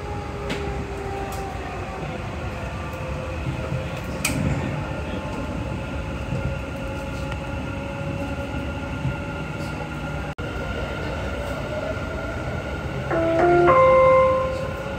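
A Dubai Metro train on the Red and Green Line runs with a steady rumble and whine of wheels on track, a few short electronic tones near the end, and no talk over it.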